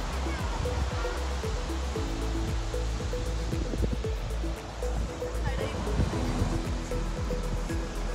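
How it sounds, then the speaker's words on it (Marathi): Surf at Ganesh Gule beach near Ratnagiri on the Konkan coast rolls and washes in steadily, a broad wash of breaking waves that fills the whole stretch at moderate level with no break. "स्वच्छ एकदम समुद्र आपला। गणेश गुळे बीच"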